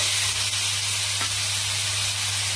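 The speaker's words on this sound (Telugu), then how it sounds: "మళ్ళీ అదే కళాయిలో మళ్ళీ 1 స్పూన్ నూనె వేసుకొని మనం సన్నగా తరిగి పెట్టుకున్న బీరకాయ ముక్కలు," Thinly chopped ridge gourd pieces fry in a spoonful of oil in a kadai, giving a steady, loud hiss that runs unbroken from start to finish.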